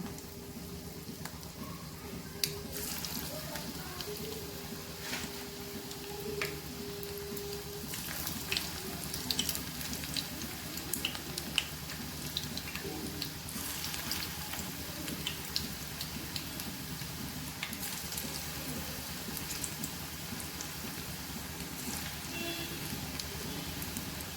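Small prawn fritters (chingri bora) sizzling steadily in hot oil over a low gas flame, a constant bubbling hiss with occasional crackles and no voices.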